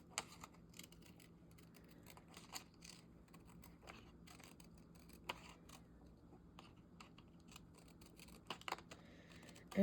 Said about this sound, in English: I'm going to fussy cut it right up to the edge.